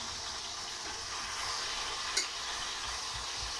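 Vegetables and mixed meats cooking gently in a pan for a vegetable terrine, a steady soft sizzle and faint stirring hiss throughout, fairly quiet with one brief clink near the end and no talking.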